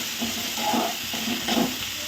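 Tomato and onion frying in oil with curry leaves, a steady close sizzle and hiss with soft stirring scrapes, no talking.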